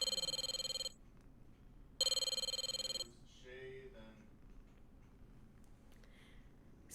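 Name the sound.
telephone ringing after pressing redial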